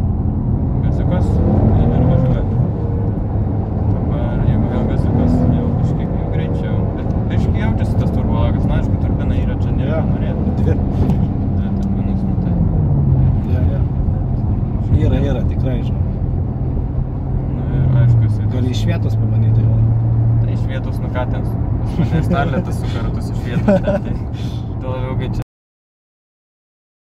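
Maserati Ghibli with a 3-litre twin-turbo V6 driving, its engine a steady loud drone with tones that rise and step between gears throughout, while people talk inside the cabin over it.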